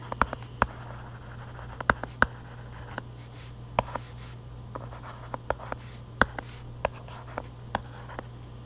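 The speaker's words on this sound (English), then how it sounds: "I can write that down." Pen or marker scratching and tapping on a surface while a probability calculation is written out, a quiet irregular series of short clicks and strokes over a low steady hum, with no talking.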